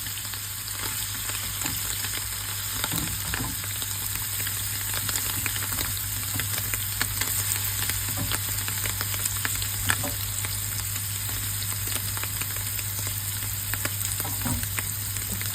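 Chicken sausage mixture frying in a hot pan with mustard seeds, a steady close sizzle with occasional crackles and stirring clicks, no talking, continuous throughout.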